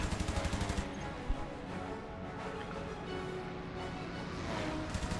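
Aircraft machine guns fire in the flight combat game Il-2 Sturmovik: Birds of Prey, rapid rhythmic bursts opening and closing the stretch, with a steady engine drone running underneath.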